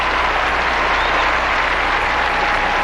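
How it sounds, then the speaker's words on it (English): Sustained crowd applause fills a figure skating arena in Detroit at a 1997 Skate America event, a steady dense wash of clapping with no talk over it. "A nice reception from the crowd here in Detroit, but some work to do for Kyoko Ina and Jason"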